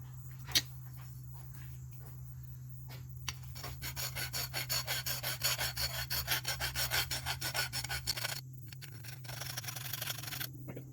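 Something scraping a coating off a surface in a fast, steady back-and-forth rasp of close strokes that runs for several seconds, pauses briefly, then resumes, over a low steady hum.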